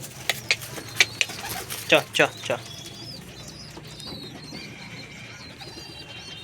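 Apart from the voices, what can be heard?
pigeons cooing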